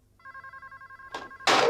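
A telephone rings in a home setting with a steady pulsing electronic trill of several short bursts. Two louder bumps or clatters follow near the end.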